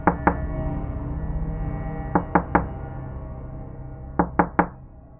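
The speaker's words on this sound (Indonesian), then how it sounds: "kedengeran lagi suara gedoran pintu" Knocking on a wooden door in three separate bursts, each two or three sharp raps, loud and close over a steady low background hum with no voices.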